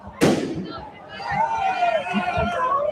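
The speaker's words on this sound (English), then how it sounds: "So on this side, you have Antifa lighting off fireworks." Fireworks set off by protesters on a street at night go off with one loud sharp bang, and crackling pops and whistling trails follow it. A crowd murmurs underneath.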